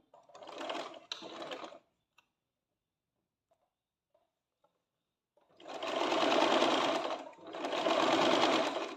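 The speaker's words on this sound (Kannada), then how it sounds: "ಈ ಎಡ್ಜಸ್ಗೆ ಒಂದೊಂದು ಸ್ಟಿಚ್ ಮಾಡ್ಕೊಂಬರೋಣ" A sewing machine stitches the side seam edges of a chudidar in three bursts: a short run with a brief stop, a long pause, then two long steady runs, close and loud.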